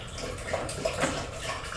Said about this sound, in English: All I gotta do is water now.